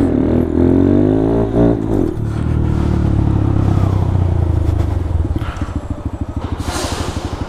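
A semi truck drives through close by, its engine roaring and revving with a deep rumble, clattering and scraping as it passes, loud and harsh throughout.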